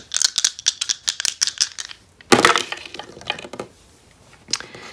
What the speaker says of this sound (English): What does the dice have to say?